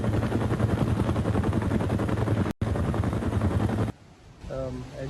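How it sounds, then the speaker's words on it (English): A helicopter setting utility poles in a mountain area after hurricane damage, its rotor chopping loudly and rhythmically for about four seconds before cutting out, then a voice speaks over quieter background. "this is why we're having to set poles with a helicopter"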